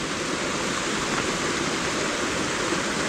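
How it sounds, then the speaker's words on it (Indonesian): Rushing hot spring waterfall heard up close, a dense, constant roar of falling water with no voices and an even level throughout. "air terjun air panas."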